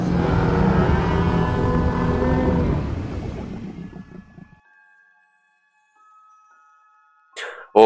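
A tenontosaurus in the video game The Isle lets out a long, deep bellowing cry that rumbles and fades over several seconds, followed by near silence and a brief sharp sound at the end.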